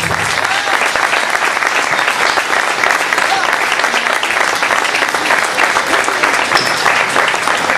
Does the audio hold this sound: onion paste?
no